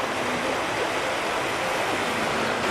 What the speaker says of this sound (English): it's probably the right amount of motion for this water because the waves aren't big and the water's quite flat already